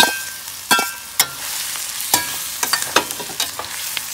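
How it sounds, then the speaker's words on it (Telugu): Shrimp hitting hot oil with lightly browned onions in a pan, a close sizzling hiss broken by sharp scraping strokes of a spatula at an uneven pace, no voices. "ఉల్లిపాయ కొంచెం ఏగింది సో దీనిలో మనము రొయ్యలు వేసేసుకుందాం"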